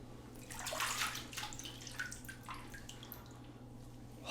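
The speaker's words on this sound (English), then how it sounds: "I'm going to chase this with a little bit of ice water" Ice water splashes onto a freshly shaved face, a run of wet splashes and drips in close, moderate loudness over a low steady hum, with no talking.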